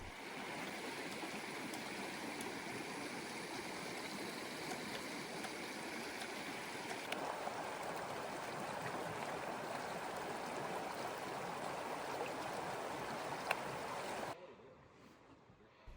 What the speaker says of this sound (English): we need to filter some water from the nearby creek